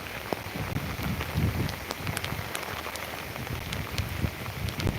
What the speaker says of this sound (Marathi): सध्या पाऊस इथे चांगल्या प्रकारे चालू झाला आहे बघा